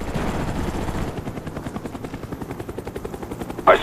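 A Cobra attack helicopter arrives in a first-person shooter match, its rotor blades thumping in a steady, rapid rhythm that is loud at first and then eases slightly, ending with a brief sharp burst.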